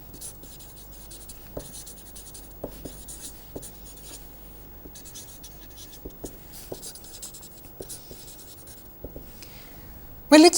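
Pen or marker writing on paper during a lecture on vectors in a two-dimensional space, close and faint: short scratchy strokes and taps in irregular bursts, with a sharper clatter at the end and no talk.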